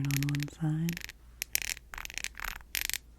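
Scraping across the raised pattern on one side of a glass ink bottle, producing bursts of close, gritty rasping separated by short pauses, with a brief hum of voice at the start.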